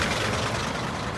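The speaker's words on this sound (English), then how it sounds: "Those are brand new cars? Man, they sound bad." A brand new Kia car idles roughly, giving a steady, dense engine rumble that stays loud and even through a brief stretch with no voices.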